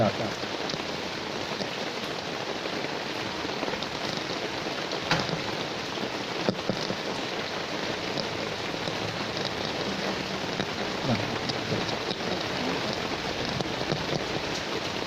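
Heavy rain pours in a steady, dense hiss and patter that fills the whole stretch without a break, with faint voices underneath.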